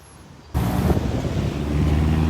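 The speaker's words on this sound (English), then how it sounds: "that wind has started to pick up again" Strong wind gusts buffet the microphone outdoors along a road in Cairns, a sudden rushing roar that stays steady and loud throughout, with no voices.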